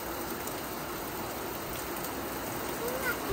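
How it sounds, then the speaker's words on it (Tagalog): Heavy rain pours down in a dense, steady hiss on surfaces nearby, with no pauses, at moderate level. "Grabe, ang lakas ng ulan."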